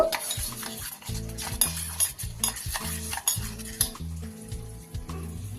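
A spiced paneer mixture with salt and Kashmiri chilli powder is stirred firmly in a pan, giving repeated scraping, clinking strokes in a steady rhythm, close and clear with no talking.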